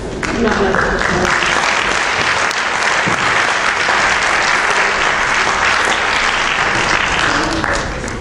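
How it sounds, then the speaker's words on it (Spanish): Audience applause at a bicentenary ceremony honouring Miguel Agustín Príncipe in his home town, a dense, steady wash of many hands clapping close and loud for the full length, fading slightly at the end. "Un aplauso, por favor."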